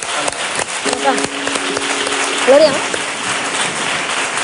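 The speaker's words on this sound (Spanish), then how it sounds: "Un aplauso para el maestro" Applause from a television studio audience welcomes a maestro on stage, clapping mixed with a short spoken word and a sung note in between.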